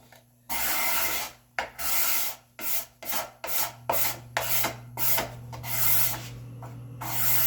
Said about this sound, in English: But I'll take a card scraper just one final time.